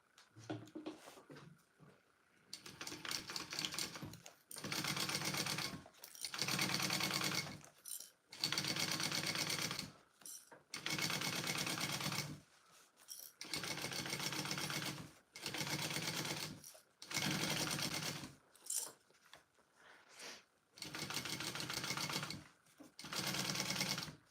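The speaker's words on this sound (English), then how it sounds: "Now we're gonna sew this together." A sewing machine stitches together a Lettie Mini Bowler Bag in bursts of fast, steady whirring, roughly ten runs of a second or two each, separated by short pauses, close and loud with no talking.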